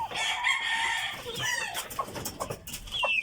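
Chickens cluck and squawk close by, with a rooster crowing partway through, a busy barnyard chorus of short calls.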